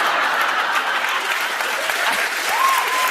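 A live podcast awards show audience claps in a steady, even wash of applause, fairly loud and continuous, with a faint voice briefly rising near the end.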